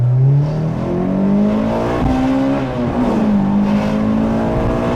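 A Toyota Corolla T Sport pulls hard in first gear, its engine note climbing steadily and loud with one brief dip mid-run, a continuous close-up drone with no talking.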